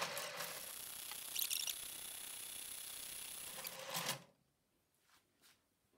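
Brother KG95 garter carriage on a knitting machine running along the needle bed, a steady close mechanical whir with a brief clatter, then stopping abruptly and leaving near quiet.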